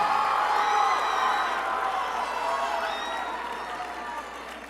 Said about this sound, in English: let's give them all a round of applause for a great job this evening.